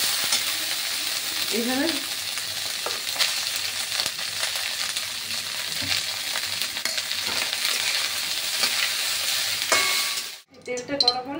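Whole cardamom pods and cloves frying in hot oil for a Bengali fish biryani, a steady close sizzle with occasional stirring scrapes, ending abruptly near the close where a brief word is spoken.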